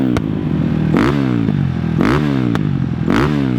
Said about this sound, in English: Someone wants to hear the exhaust sound.